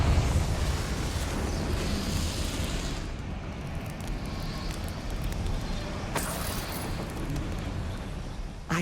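A Confringo spell explodes in the video game Hogwarts Legacy, heard as a loud, rumbling blast that roars on for several seconds, with a sharp crackling burst partway through.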